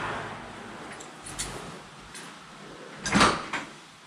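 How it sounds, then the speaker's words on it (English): A soft thud of a door closing in an abandoned barber shop, with some faint shuffling and creaks before it, in a quiet room. "We should just shut that door so it quits scaring the hell out of us."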